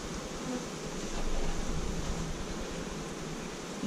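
Bees hum steadily around a hive at an apiary during the acacia honey flow, a close, continuous, fairly quiet buzz with no talking.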